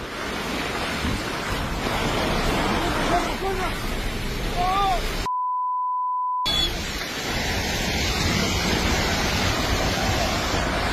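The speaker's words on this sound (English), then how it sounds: "The sound of this landslide is so intense that it reminds me of a raging river." A landslide roars like a raging river, a continuous broadband rush with wind noise. Brief voices are heard over it, and a beep cuts through a short silent gap midway.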